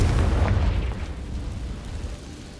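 Confringo blasting spell in Hogwarts Legacy bursting into a deep, rumbling explosion that fills the opening moment and then fades into a low, steady roar.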